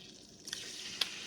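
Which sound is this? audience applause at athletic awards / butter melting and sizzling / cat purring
butter melting and sizzling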